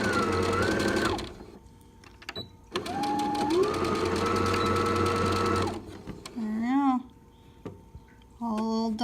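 A sewing machine stitches down the hem of a rag rug in two long close runs, with short pauses, a brief squeaky handling noise and a third short burst at the end.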